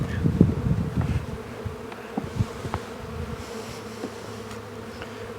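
Honeybees hum in a dense, steady buzz close by at an open hive during a late-winter check, swelling louder at first, with occasional faint knocks and rustles.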